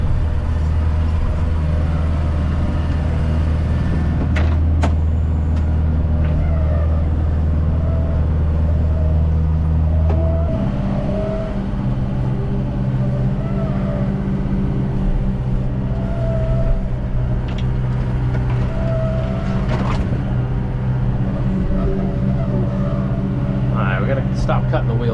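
A tractor engine drones steadily and loud throughout while clearing a hiking trail, its low rumble shifting pitch partway through as the load changes, with scattered knocks and brush noise over the top.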